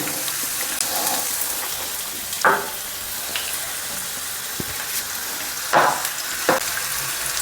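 Onions frying in hot oil give a steady crackling sizzle, with a few louder bursts of stirring or spatter now and then.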